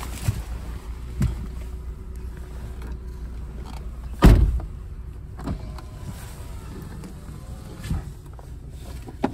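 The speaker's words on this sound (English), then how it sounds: "Driver's window is auto. Auto up and down." Power window motor on a 2015 Honda Civic Si coupe, the driver's auto up-and-down window, whirring with a sharp thunk near the middle as the glass seats, set against a low idling engine hum inside the car.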